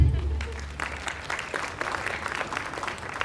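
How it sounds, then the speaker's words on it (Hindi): Scattered applause from a class of students, moderately loud, with uneven claps and some background voices mixed in. "इसके लिए तालियां बजाओ।"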